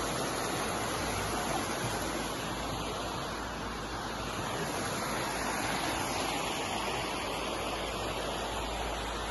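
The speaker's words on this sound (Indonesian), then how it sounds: "Oh, ternyata ada sungai sobat jalan." Steady broadband rush of a river stream flowing beside rice fields on a slippery path near a camping ground in Sentul, Bogor, continuous and fairly close throughout with no voices.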